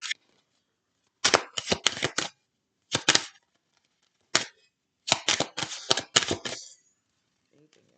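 Tarot cards being shuffled by hand in crisp, snappy bursts of riffling, several quick flurries separated by short pauses, close and fairly loud with no talk over them.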